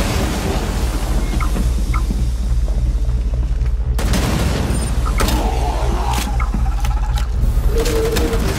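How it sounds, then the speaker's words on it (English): Heavy gunfire in the video game Rainbow Six Extraction, with a double barrel shotgun booming in loud, dense bursts, one especially sharp blast at mid-point, over a constant low rumble. "Using a double barrel was a bad idea."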